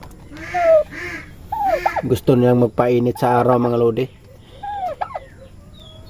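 Young turkeys being raised at home give out repeated high calls and gobbling bursts, a loud stuttering run in the middle, while someone talks between and over them.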